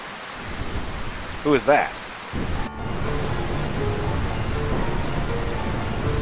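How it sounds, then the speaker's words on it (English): Steady rain hisses over a stormy scene in the Final Fantasy IX video game, a constant wash of noise that runs through the whole stretch. A short spoken line briefly cuts in near the start. "I find this rain quite pleasant."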